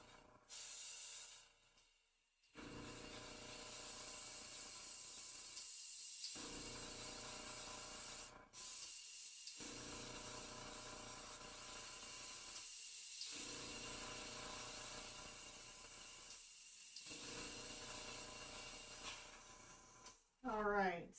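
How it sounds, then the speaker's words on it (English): An airbrush blasts cleaner straight through its nozzle in long, loud, steady hissing bursts separated by short silent pauses, ending with a brief rattle. "And all I'm doing is just spraying this straight through."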